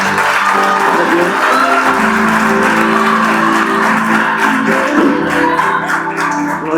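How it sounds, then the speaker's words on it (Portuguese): Church congregation at a pastors' breakfast gathering applauding, a steady, dense wash of clapping with cheering and musical tones underneath, loud and sustained throughout. "Jesus merece um aplauso."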